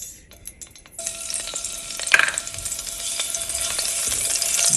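Onions sizzle and fry in virgin coconut oil, a steady close crackle that begins after a short quieter opening, with a brief stirring clatter partway through and the hiss building toward the end.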